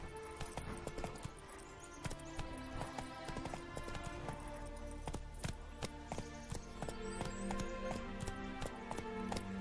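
Galloping horse hoofbeats in a video game, a rapid steady clip-clop rhythm running throughout over layered game music and ambience.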